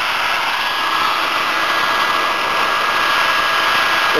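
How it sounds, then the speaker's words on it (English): A hair dryer blows steadily and loudly throughout, drying German silver and brass pendants, a constant airy whir with no pauses. "take any old hair dryer you have laying around"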